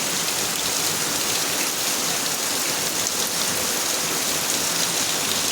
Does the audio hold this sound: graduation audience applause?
no